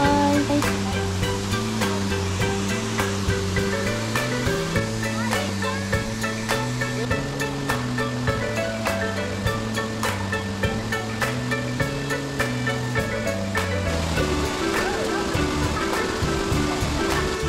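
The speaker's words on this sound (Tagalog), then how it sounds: "Let's see the beauty of the Tagnuti Falls." Tagnote Falls in Agusan del Norte, a waterfall in the Philippine countryside, roars as a constant broadband rush, close and steady throughout, with background music playing over it.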